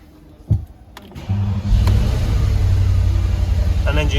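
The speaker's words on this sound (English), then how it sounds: "An engine starts." A Porsche Cayenne engine cranks and catches after a couple of clicks and a brief whir, then settles into a steady, close idle rumble that carries on to the end.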